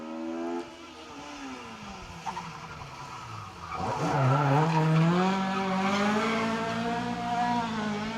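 A rally car skids through an asphalt hairpin on the Baldwin stage of the Manx Rally, its tyres squealing loudly as the engine revs climb and swell, fairly close and with no talk.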